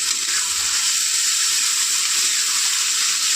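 Soaked lentils (dal) frying with onion and a little salt in a pan, a steady, even hiss of sizzling oil holding close and unbroken throughout.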